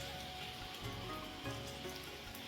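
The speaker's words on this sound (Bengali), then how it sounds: "এই যে ঝমঝম করে বৃষ্টি হচ্ছে" Heavy rain pours steadily outside a home, a dense, continuous hiss of drops striking surfaces with no gaps, fairly close and even in level throughout.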